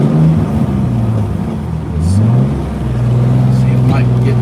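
A race car's engine drones and shifts pitch inside the cabin while lapping Gingerman Raceway, a steady loud rumble rising and falling with throttle, with a voice speaking briefly over it.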